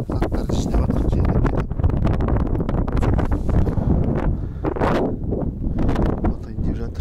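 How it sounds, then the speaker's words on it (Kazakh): Wind gusting across a frozen lake during spring ice fishing near Astana, a steady loud roar buffeting the microphone throughout. "Жел күн салқын сосын."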